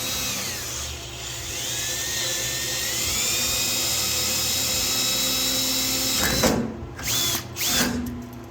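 A high-pitched power drill with a titanium bit whines steadily as it bites into metal, then stops and restarts in a few short bursts near the end.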